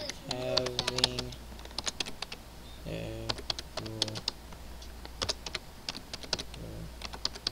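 Typing on a computer keyboard, a close, uneven stream of sharp key clicks, with tones from the computer and a steady low hum underneath.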